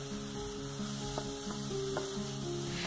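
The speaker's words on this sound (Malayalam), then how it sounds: "ചോപ്പ് ചെയ്ത് വെച്ചിരിക്കുന്ന സവോളയും കൂടി ചേർത്തിട്ട് ഒരു ലൈറ്റ് ബ്രൗൺ ഷെയ്ഡ് ആവണ വരെ ഒന്ന് വഴറ്റിയെടുക്കാം." Chopped onions sauté in hot oil with mustard seeds, curry leaves and green chili, a continuous soft sizzle heard close under a steady melodic tone.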